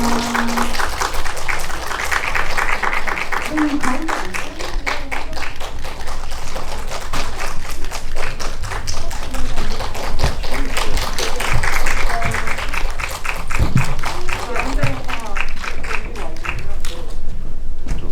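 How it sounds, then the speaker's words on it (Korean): An audience gives a long, steady round of applause for film actors at a commentary event, dense rapid clapping sustained throughout with voices talking beneath it. "뜨거운 박수를 받아주시기 바랍니다"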